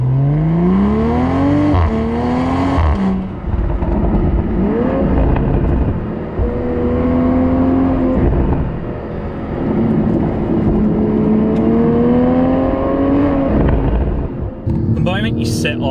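A 2020 Toyota Supra sports car pulls away and accelerates hard, its engine note sweeping up through the gears with brief dips at each shift, loud and continuous from inside the car, with a voice talking over it.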